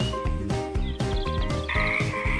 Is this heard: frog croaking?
yes